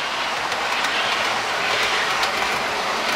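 A model train runs steadily along its track, a loud, continuous close-up rumble with faint rhythmic clicking from the wheels and no voices.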